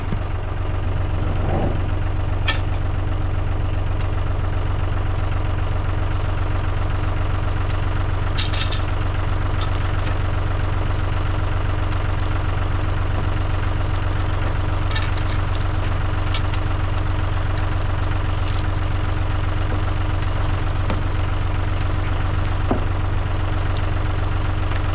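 A large diesel tractor engine idles steadily with a low, even rumble while lifting a giant pecan log at a sawmill, with occasional faint clicks and clanks over the constant drone.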